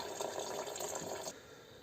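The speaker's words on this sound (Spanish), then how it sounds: "Voy a ponerlo en llano para que termine de escurrir el radiador." Coolant drains from a Seat Leon radiator, a steady trickling splash of liquid that runs for about a second before stopping abruptly, leaving a quiet background.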